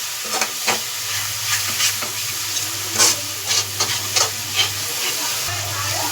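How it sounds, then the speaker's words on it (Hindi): Chilli powder, Kashmiri chilli, garam masala and coriander frying in oil for an arbi leaf sabzi, stirred with a spoon: steady close sizzle with repeated scraping strokes and a low hum underneath, no talking. "इनको अच्छी तरीके से मिला लेना जब तक ये तेल ना छोड़ दे हमारे मसाले अच्छे तरीके से"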